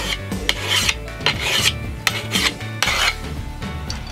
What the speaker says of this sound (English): This one I like to keep sharp, like knife sharp, or as sharp as you can get it with a file